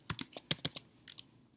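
A burst of quick keystrokes on a computer keyboard, close and crisp, in an uneven run of about a dozen taps with a short pause near the end, no talk.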